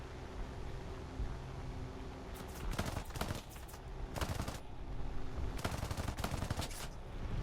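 Guns fire in a fighter plane video game: short bursts of rapid machine-gun fire cut in and out over a steady engine-like hiss, loud and close.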